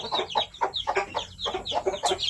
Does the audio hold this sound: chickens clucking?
yes